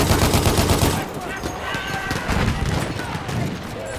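Sniper and other gunfire in the Battlefield 1 video game, dense repeated shots with a loud opening stretch that eases into continuous battle noise, heard amid chaotic in-game effects.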